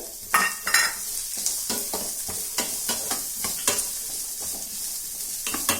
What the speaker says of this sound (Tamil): நல்லா ப்ரௌன் கலராக வர வரைக்கும் நம்ம வதக்கிட்டே இருக்கணும். வெங்காயம் நல்லா வதங்கணும்.